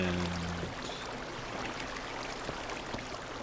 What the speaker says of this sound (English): the sound of this water is overpowering my ears